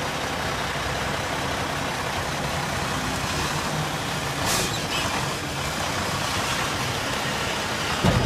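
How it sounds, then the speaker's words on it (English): A 2005 Mack Vision CXN612 truck engine running steadily with a heavy low rumble, loud and close, as the truck is put in drive, with a brief swell midway. "Let's go ahead and put it in drive, and we're going to show you that it goes forward and reverse as it should."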